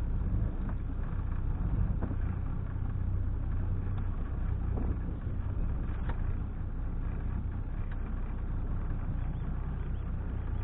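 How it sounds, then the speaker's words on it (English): Twin engines of a Carver 3207 motor boat idle ahead at tickover, a low, steady rumble under light wind noise, continuous and fairly quiet with no talking. "With both engines running ahead, and still at tickover, we have enough drive to use the rudders"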